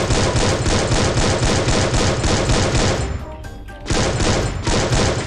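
Rapid automatic gunfire in the Free Fire mobile shooter, loud and close, with dense continuous bursts that pause briefly for under a second before the shooting resumes.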